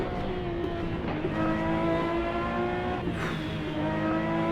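A Ferrari 512S race car engine in Assetto Corsa revs steadily and loudly with a sustained harmonic drone, pitch rising and dipping through gear changes on the Targa Florio road course, with no voices over it.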